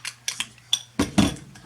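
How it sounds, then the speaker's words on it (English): A spoon stirs meatloaf mixture in a container, giving a few separate light clinks followed by louder, denser scraping bursts near the end, close and fairly quiet. "I'm going to take my spoon and I'm just going to stir it up"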